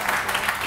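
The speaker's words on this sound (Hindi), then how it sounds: "सिद्रा साजिद के लिए बहुत सारी तालियां।" A studio audience on a morning television show claps in a quick, dense burst, loud and near, lasting under a second.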